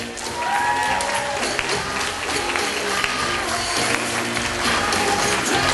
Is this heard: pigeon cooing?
no